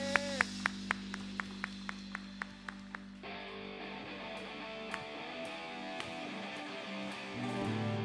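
A congregation at a youth worship service in church claps, first in a brisk, evenly spaced rhythm of single claps, then breaks into a dense, sustained wash of applause that carries on to the end at moderate volume.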